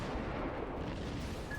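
Deep, rumbling blast of naval gunfire from a tier VI American warship in World of Warships, one loud, dense low roar filling the whole short moment without voices.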